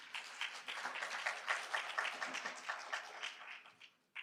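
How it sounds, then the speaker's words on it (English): An audience at an indoor panel discussion event in Chicago claps in a dense, steady burst of applause that carries for about four seconds, then breaks off abruptly, with no talking over it. "So please give yourselves a round of applause."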